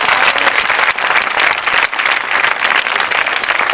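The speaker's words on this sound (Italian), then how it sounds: "facciamo un grande applauso." A school audience applauds after a student play, a dense, loud, continuous roar of many hands clapping together that holds steady throughout with only brief dips.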